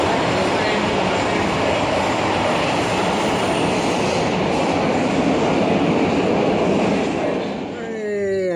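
A metro train roars through an underground station in Bucharest, Romania, a loud, sustained rumble and rush that fills the space before easing near the end, with a rising whine as it slows.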